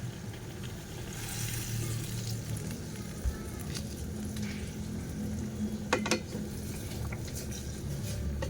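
Faint steady sizzle and bubbling from a pot after pork cubes and a little broth are added for a sponge gourd sauté, with a soft clink of utensils partway through.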